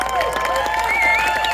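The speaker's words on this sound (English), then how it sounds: "Can you guys give a round of applause to this youth that are here?" Rally crowd for a youth march for life group in Utah claps and cheers steadily, a dense wash of applause with whistle-like tones and voices mixed in, moderately near and continuous throughout.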